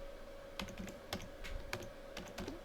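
Quiet, irregular keystrokes as a command is typed on a computer keyboard, a few clustered taps with short gaps, close and faint over a steady background hum.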